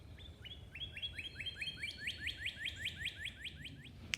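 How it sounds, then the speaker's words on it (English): Birds sing outdoors beside an apple tree in blossom, a quick series of repeated, rising chirps that speeds up and grows louder over a soft, low background hum. "can you hear the birds?"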